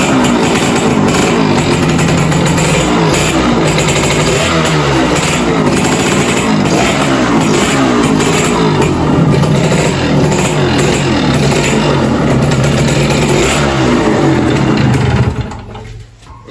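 An old motorcycle engine runs loudly and roughly at close range, chugging steadily before cutting off abruptly at the end.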